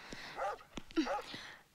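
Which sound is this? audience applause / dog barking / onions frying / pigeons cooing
dog barking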